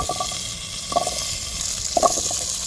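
Drumstick pods coated in turmeric hit hot oil in a pan, giving a steady close sizzling hiss with two brief soft clinks or splutters; no voices.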